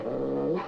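Low, continuous dog growl from an animated film, a single sustained rumble lasting under a second with no speech.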